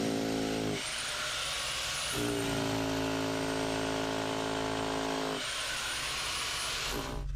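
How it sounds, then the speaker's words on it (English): A small Vevor electric jackhammer drill whines loudly in sustained bursts while drilling in a tunnel, pitch dropping under load then rising again as it runs freely. "I'm impressed with this Vevor drill, little jackhammer drill."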